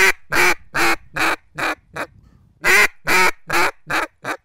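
A duck call sounds two sequences of loud, close quacks with regular spacing, five or six in each run, the later quacks in each run dropping in volume.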